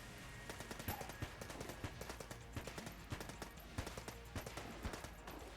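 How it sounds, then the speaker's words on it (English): Machine pistol fire in the Enter the Gungeon video game rattles in quick, evenly spaced bursts of sharp shots, faint and steady over a low background hum. "And back to the machine pistol."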